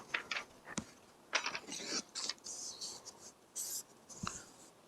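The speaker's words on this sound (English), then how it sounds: "I'll write a little diagram here." Pen scratching out a small diagram on paper at a scale-modelling bench, a quiet series of short, irregular strokes and scribbles with brief pauses and a few light taps between them.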